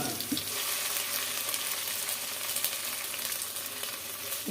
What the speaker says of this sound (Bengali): মেয়ের জন্য একটু পোলাও বসাই দিলাম, এই তো গরম মশলা দিয়ে দিলাম।